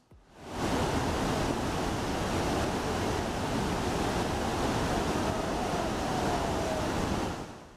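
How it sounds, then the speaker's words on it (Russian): The Yellow River pours down at Hukou Waterfall as a steady, dense roar of rushing water that fades in and holds loud and constant throughout. "когда вода устремляется вниз"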